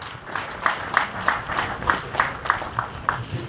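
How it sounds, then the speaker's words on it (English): Audience applause at a Nigerian Navy barracks commissioning ceremony in Kanshio, Makurdi, Benue State, heard as a steady round of clapping with a rhythmic pulse of louder claps repeating about three times a second. "A resounding round of applause."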